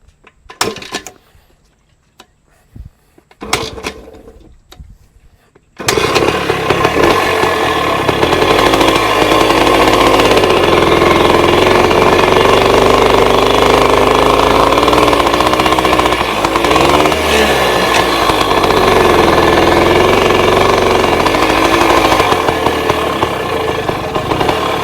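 A 1966 Bultaco Lobito motorcycle engine starts after a few quiet clicks and knocks, then runs loud and close as a buzzing two-stroke drone that rises and falls with revving for about twenty seconds.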